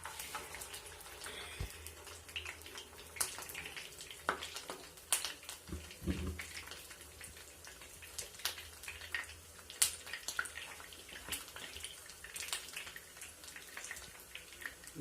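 Chapli kababs fry in hot oil in a home kitchen, a faint steady crackle broken by scattered sharp spatters and pops, close but low in level, with no voices.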